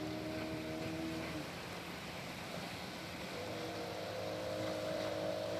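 An engine boat used by divers searching a river for drowning victims, a steady droning motor hum with a tonal whine that fades and returns, mid-distance over wind and water noise.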